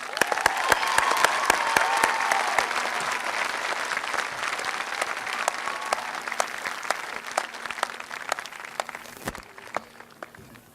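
A large audience at the 2019 Peninsula College commencement applauds steadily for nearly eleven seconds. The dense clapping starts strong and tapers slightly toward the end, with no speech over it.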